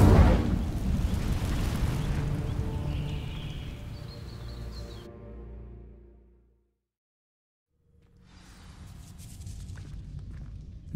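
The Incendio fire spell ignites dry vines in Hogwarts Legacy with a loud whooshing burst and crackling roar that fades to silence before a softer rustling swell returns.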